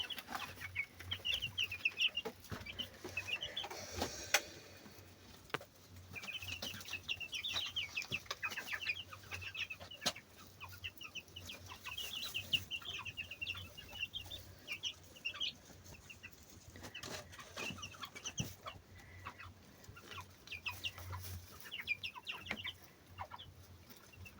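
Chicks and young roosters cluck and chatter close by in an irregular, ongoing stream of short calls over quiet background noise, with no talking.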